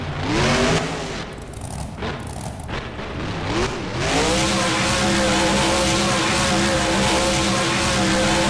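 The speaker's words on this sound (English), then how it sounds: "some huge air from Bigfoot as the truck slams it back down and bounces that rear axle into the air" Bigfoot monster truck at a freestyle show landing a jump and then revving hard, a loud engine roar that dips and climbs before holding a sustained high-pitched drone.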